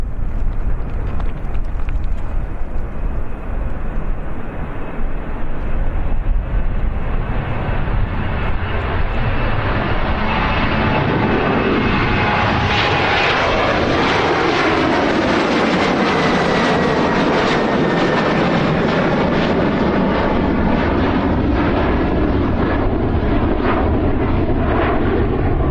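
A German-registered airliner, D-ATUF, departs Lanzarote Airport in the Canary Islands for Dusseldorf; its engines roar loudly and close, then swell and sweep past in a long, rising and falling rush with no talk.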